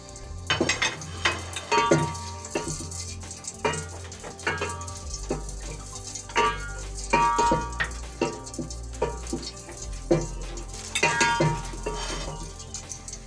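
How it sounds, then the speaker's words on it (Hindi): Eggs fry lightly, two at a time, in a cup of hot ghee, giving a soft continuous sizzle with repeated clinks and scrapes of a utensil against the pan, fairly quiet throughout. "2-2 करके अंडे फ्राई कर लेंगे लाइट।"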